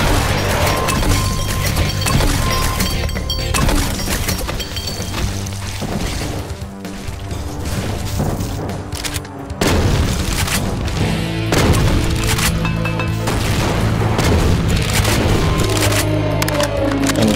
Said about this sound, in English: let's put up some ice with this